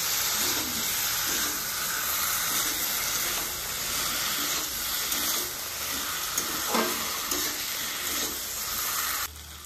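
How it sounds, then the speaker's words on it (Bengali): Boiled taro and potatoes are sautéed with spices in a hot pan, giving a steady close sizzle and hiss with scraping stirs throughout. "এবার কচুর সঙ্গে আর মশলার সঙ্গে ভালো করে কষে নেব।"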